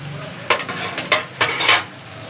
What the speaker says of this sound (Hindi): चिकन को अच्छी तरह से भून लेंगे